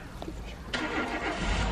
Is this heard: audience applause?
no